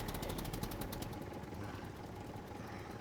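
Tractor engine in SCUM running with a low, steady, rumbling idle and a rapid rhythmic clatter that fades after the first second, moderately quiet and alone.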